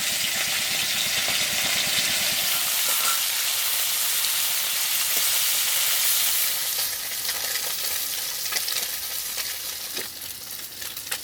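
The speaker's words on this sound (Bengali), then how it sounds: "এই খয়রা মাছ ভাজা" Khoira fish frying in hot oil, a steady dense sizzle that stays loud and close throughout, with a low rumble underneath early on and a slight easing toward the end; no one speaks.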